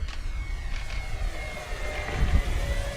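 A Dynam Spitfire MK.VB floatplane RC model with a ventral fin streaks past at high speed, its electric motor whine rising and falling steadily against gusty wind and low rumble, moderately distant throughout.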